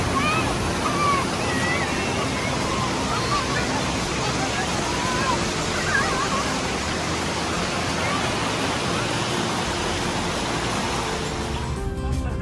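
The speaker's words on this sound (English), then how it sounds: "this is very beautiful, another waterfall, and people can play and swim or enjoy with this stream" A waterfall and stream at a Cambodian beauty spot rush with a steady, loud, broadband roar that continues unbroken throughout.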